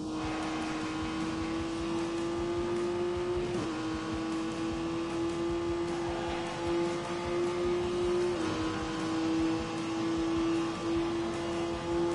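A Honda NSX engine holds full throttle in a steady, sustained drone at a nearly constant pitch, loud and continuous throughout with no voices.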